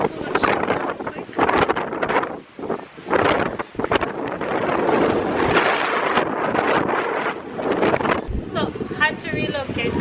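Strong gusty wind buffets the microphone at a seaside restaurant in Jamaica, coming in loud irregular rumbling bursts that swell and drop while a person talks intermittently over it.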